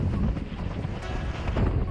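Steady, heavy wind at a windsurfing spot buffets the microphone with a constant low roar that never lets up.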